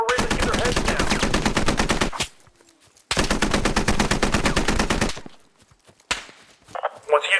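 Sustained machine-gun fire during squad training in the Squad video game, two long, rapid, evenly spaced bursts, loud and close, each broken by a short quiet gap, then a few scattered shots and a voice speaking.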